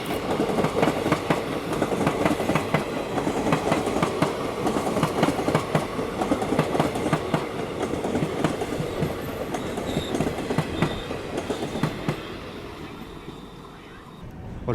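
A train runs on the rails toward Bhopal Junction railway station with a steady rumble and clickety-clack, heard from on board, then quiets and fades near the end as it slows.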